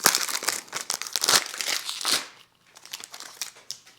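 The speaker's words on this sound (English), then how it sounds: "I'm having a real hard time with the cellophane." Cellophane wrapping crinkles and tears off a boxed bottle of Giorgio Armani Acqua Di Gio Absolu perfume, close and busy for about two seconds, then a brief pause before quieter, intermittent crackling rustles.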